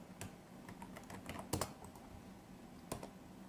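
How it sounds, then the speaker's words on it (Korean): Computer keyboard keys pressed during CAD software work, a few soft clicks and a louder double tap in quiet room tone. "엔터, 엔터 누르시면"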